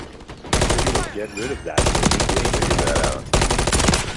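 Rapid automatic gunfire from Call of Duty Modern Warfare 3 plays in loud sustained bursts with brief gaps, while a player speaks over the shooting.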